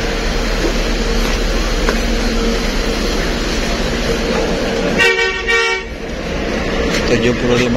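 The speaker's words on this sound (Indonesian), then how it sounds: "Kalau Volvo ini klaksonnya mirip dengan klakson bus India ya" A Volvo bus horn sounds once, a single loud blast lasting about a second, over steady engine rumble and road noise inside the bus.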